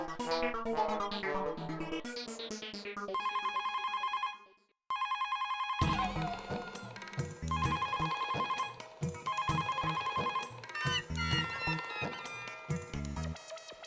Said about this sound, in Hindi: ये दया फोन क्यों नहीं उठा रही है?